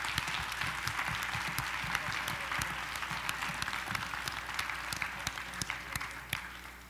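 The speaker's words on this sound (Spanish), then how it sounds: "Sí, un aplauso, por favor." Audience applause after a Spanish-language art conference panel, steady dense clapping from a seated crowd that holds at an even level for several seconds, medium distance, with no speech over it.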